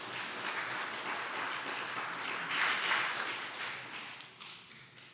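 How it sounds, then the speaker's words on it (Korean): A church congregation at a Sunday worship service claps to welcome an elder to the stage, a steady round of applause that swells midway and then gradually thins and fades toward the end. "우리 박수로 모시겠습니다."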